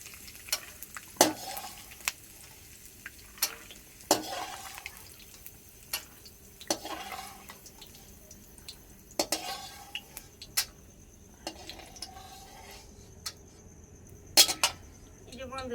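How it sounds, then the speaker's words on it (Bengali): Peanuts stirred in a pan, a quiet background sizzle broken by repeated sharp metallic scrapes and clinks of a spatula against the pan, spaced irregularly a second or two apart. "বাদাম ভেজে নিয়েছি।"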